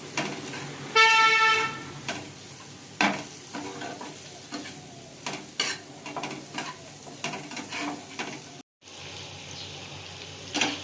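Potatoes being sautéed in a pan with spice paste for an egg curry with peas give a close run of scraping, stirring strokes over a soft sizzle, with a brief horn-like tone early on and a short silent gap near the end.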